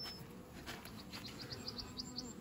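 Honey bees buzz faintly around an open hive during a May inspection at an apiary, a soft, uneven drone with brief louder passes close by.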